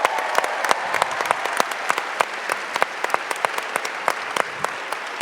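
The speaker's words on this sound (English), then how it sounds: "So please give them a round of applause." An audience at a national conference panel applauds student groups, with brisk, steady clapping and distinct, sharp individual claps popping out above a moderately loud wash.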